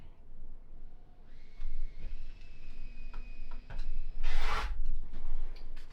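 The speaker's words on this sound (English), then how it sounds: "Now we're going to use that edge to trim our 1/4 inch seam allowance." Fabric seam allowance for a quilt block is trimmed against a folded cardstock edge, heard as soft close rubbing and scraping strokes with a sharper, louder burst near the end.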